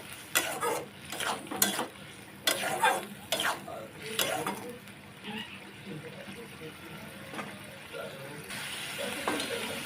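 A pan of soyabean curry gets stirred in short scraping bursts over a low simmering hiss, the utensil knocking the pan several times as a voice talks throughout.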